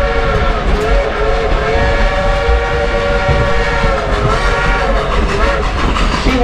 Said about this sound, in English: genuine coal-burning steam-driven Type 282 locomotive